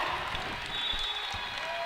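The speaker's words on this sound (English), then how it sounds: "And the crowd is on their feet. This place is going crazy." A volleyball crowd roars in a gym, a dense, loud wash of cheering and clapping that holds steady throughout without a break.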